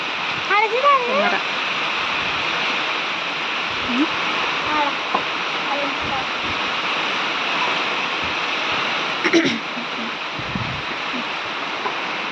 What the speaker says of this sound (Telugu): ఇదిగోండి ఫ్రెండ్స్, నీళ్ళు ఎట్లా పోతున్నాయో. ఇవన్నీ చెరువులకు వెళ్ళిపోతాయి అన్నమాట.